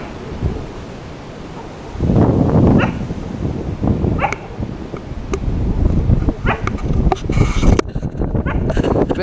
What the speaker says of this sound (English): listen to this wind.